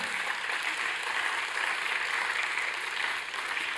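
A church congregation claps steadily at a Spanish-language Easter service, dense broadband applause holding evenly from start to finish with no voices rising above it.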